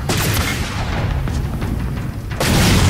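A weapon shot fired in Halo 4 Spartan Ops: a loud booming blast at the start, a dull rumbling tail, then a second heavy boom near the end.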